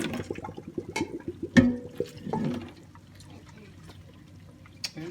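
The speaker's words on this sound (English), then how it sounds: "We're going to drain them now. Drain all the water off of them." Water from boiled potatoes pours and splashes out in a rush, with a clatter of pot and lid, then a softer trickle and dripping as it drains away.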